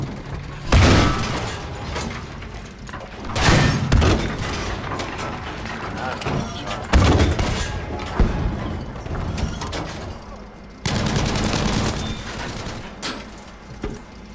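Repeated gunfire from a shooter video game, loud sharp bursts and booming shots in irregular clusters across the stretch, some sustained volleys, close and heavy, with occasional talk mixed in.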